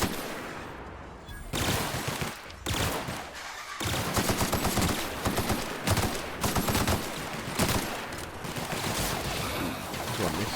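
Sustained automatic weapon fire from the player's gun in The Outer Worlds, a loud continuous burst of rapid shots with short pauses, dense and close throughout.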